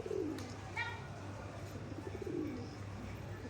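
Pigeons cooing softly on a rooftop loft, a couple of low, brief coos standing out over a steady low hum and faint background noise.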